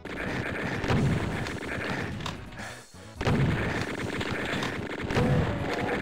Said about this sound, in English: Doom really loves its chain gun.